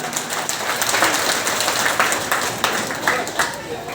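A religious gathering's audience claps in a dense, continuous patter at moderate loudness, with a voice talking over it.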